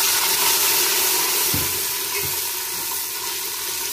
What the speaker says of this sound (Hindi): अब हम डालने लगे इसमें पानी